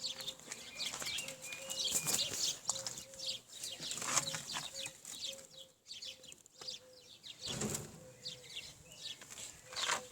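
Pigeons flying outdoors, wings flapping in repeated bursts with scattered chirps and calls, close and fairly quiet against a light background.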